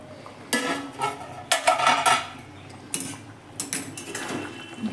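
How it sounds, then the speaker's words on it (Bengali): A metal lid scrapes and clanks off a pot of simmering raw banana and potato curry, a few close metallic rattles and knocks coming in short bursts, with no voices. "ফুটিয়ে নেওয়ার পর আপনাদের সামনে কিন্তু ঢাকনা খুলছি"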